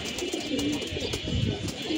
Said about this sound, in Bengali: এই যে বুড়া জাতের জংলা লাইনের এক জোড়া কবুতর